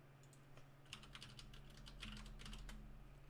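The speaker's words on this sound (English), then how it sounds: "Sorry for the loud typing." Loud clacking keystrokes on a computer keyboard, typed in quick irregular bursts close to the mic over a steady low electrical hum, with no voices.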